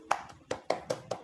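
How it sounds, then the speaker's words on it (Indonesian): Hands clapping in a classroom peer-teaching session: five sharp, evenly spaced claps, close and fairly quiet, with no voices over them. "Tepuk tangan untuk kita semua"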